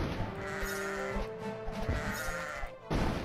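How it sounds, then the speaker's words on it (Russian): Goats in the video game Kingdom Rush bleat in drawn-out, wavering cries that overlap against a busy game soundscape. "Козы, чё козы стоят просто так без дела?"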